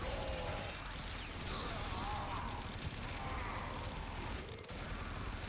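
Sustained gunfire in Warframe, with a player going for headshots on Infested enemies: a dense, steady barrage of shots and game effects with no pauses, loud and close throughout.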